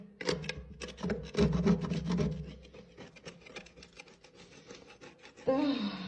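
Paint being scraped off a wooden veranda window frame by hand, heard as close, repeated rasping strokes with an uneven rhythm. The strokes are loudest early on and grow quieter, and a brief louder scrape comes near the end.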